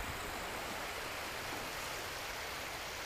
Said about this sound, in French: J'espère que vous entendez le bruit des vagues.